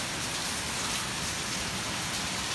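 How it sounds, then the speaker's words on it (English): Steady rain falls outdoors during a severe thunderstorm with wind and hail, a dense, even hiss of drops on surfaces close by throughout, without thunder or voices. "I think it's just raining now."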